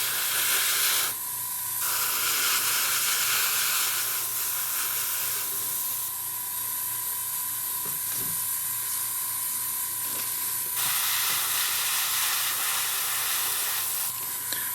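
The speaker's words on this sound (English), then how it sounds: "just give it a spray" Sustained hissing spray of water over broken debris and leftover lumber at a demolition site, loud and close, with a brief pause before the spray resumes; no talking.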